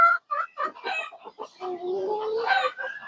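Several laying hens on a poultry farm cluck and chatter close by in short, busy bursts, with one drawn-out call near the end.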